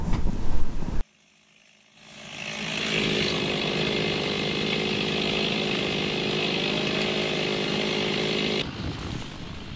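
A chainsaw runs steadily and loudly as it cuts hedge stems during a hedgelaying competition, sustained for several seconds after a brief burst and short pause, then cut off.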